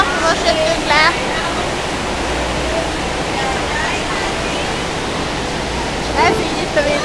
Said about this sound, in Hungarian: Ez így itt a vízesés.